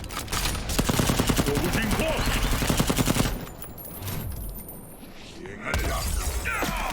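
Rapid gunfire from soldiers in the Mortal Kombat X video game story mode, a dense burst of shots for about three seconds, then quieter rumbling game sounds that swell again near the end.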